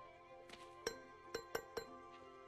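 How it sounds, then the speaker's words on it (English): A small bird taps on a glass pane in an animated game cinematic, four or five sharp, bright clinks in an uneven rhythm, faint and close over a quiet ambient bed. "Why is the bird tapping the glass?"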